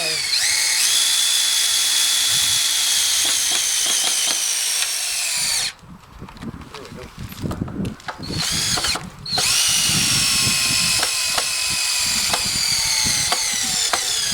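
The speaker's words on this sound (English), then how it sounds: "I think my battery on my drill is dying." A cordless drill with a dying battery runs loudly up close, whirring steadily, cutting out briefly twice in the middle before spinning up again.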